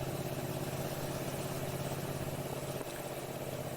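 A motorcycle engine runs steadily during a ride, a close, continuous droning hum with an even, unbroken tone and no talking.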